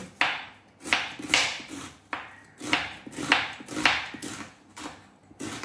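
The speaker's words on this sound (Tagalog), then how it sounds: "hiwa naman tayo ng sibuyas, guys. Manipis lang din." A knife slices an onion thinly on a board for a mango salad, giving about ten quick, crisp cuts in an uneven rhythm, each a sharp tap with a short fading tail, close and clear with no talking.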